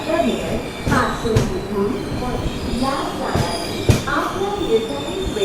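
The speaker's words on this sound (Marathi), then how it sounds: "आपल्या ट्रेनचा पुण्यानंतरचा दुसरा स्टॉप आहे लोणावळा" A Pune to Mumbai passenger train runs steadily with rumbling wheels, rhythmic clacks and occasional squeals and knocks from the carriages, heard from inside at close range.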